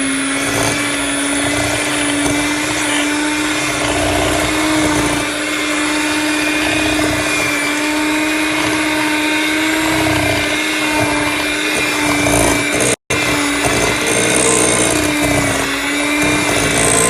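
An electric mixer blends cream cheese with sugar, a loud steady motor whir with a constant hum that continues throughout with only a brief dropout near the end.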